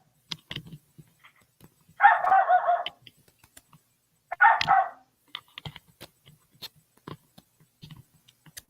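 A dog gives two short, harsh bursts of barking about two seconds apart, fairly close, with scattered faint clicks and knocks around them and no talking.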